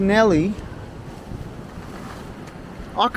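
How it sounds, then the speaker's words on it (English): Wind gusts across a coastal plein air painting spot, a steady broadband rush with a nearby voice briefly rising at the start and end over the blowing air. "the wind's coming from the southeast, so the wind's coming from that way"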